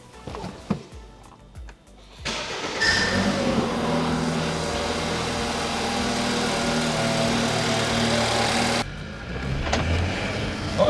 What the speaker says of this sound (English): first start after the new turbo